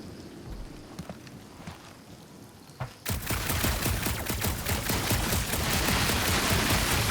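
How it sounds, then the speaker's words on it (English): Gunfire in Guardians of the Galaxy, a sci-fi action game, starting with sparse scattered shots and then breaking into a sustained, dense, loud barrage of rapid blasts that continues to the end. "Shooting your way out of every problem again, Peter?"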